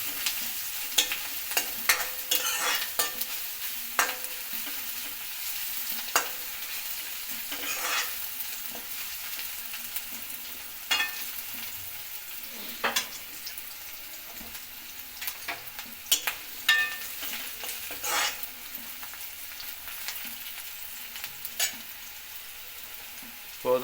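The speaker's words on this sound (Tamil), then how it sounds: "அதையும் போட்டு நல்லா வதக்கிட்டு கொஞ்சம் அதுவும் வதங்க விடுங்க." Crushed garlic sautéing in a pan for tamarind curry, with a gentle ongoing sizzle broken by repeated sharp scraping and stirring clicks from a spoon, no voices.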